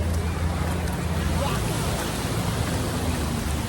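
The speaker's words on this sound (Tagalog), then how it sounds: "ang lakas ng alon" Loud, steady roar of strong sea waves and rushing surf at a beach in Batangas, Philippines, with wind buffeting the microphone throughout.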